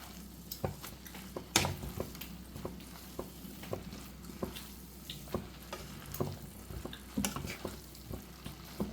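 Chicken kothu chapathi mixture with masala is stirred and tossed in a hot pan, a low steady sizzle punctuated by repeated soft scraping and knocking hits of a spatula against the pan.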